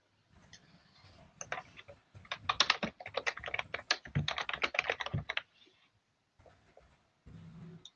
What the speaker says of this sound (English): I'm also typing in the notes.